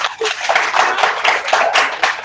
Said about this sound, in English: Gentlemen, you want to give her a round of applause?